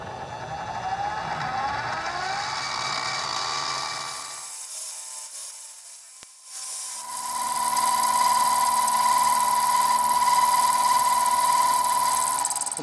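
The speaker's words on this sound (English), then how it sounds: "So we're going to go ahead and center drill this and then drill it out with a 5/16." Milling machine center drilling a vise clamp with a 1/4 inch center drill: a continuous grinding, rubbing cut with high chattering overtones that fades into a brief low-level lull, then returns as a steady, bright whine, close with no talk.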